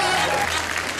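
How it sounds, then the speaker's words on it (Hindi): Studio audience applause on a Bigg Boss 15 reality show set, a brief dense burst of clapping, loud and close, with a voice over it. "बोला ताली रोको"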